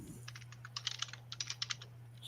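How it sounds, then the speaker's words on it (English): Fingers type on a computer keyboard in a quick, uneven run of soft clicks. The typing is faint and close over a steady low electrical hum. "he's back to typing"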